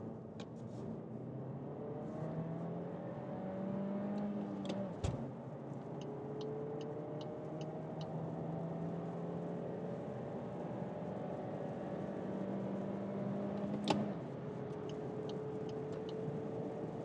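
A VW Golf facelift with a turbo petrol engine and manual gearbox accelerates through the gears on a German Autobahn. Its rising engine drone breaks at two clear gear changes, each marked by a sharp click and a drop in pitch.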